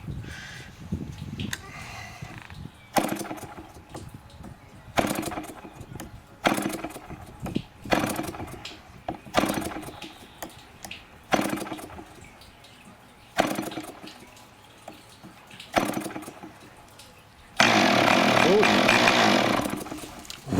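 An RC model compression engine being cranked by hand, repeated short bursts of buzzing turnover separated by pauses, ending in a longer sustained run as it nearly catches, with people talking in between.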